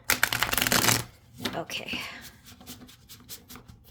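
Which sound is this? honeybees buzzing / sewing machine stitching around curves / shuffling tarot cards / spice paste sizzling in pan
shuffling tarot cards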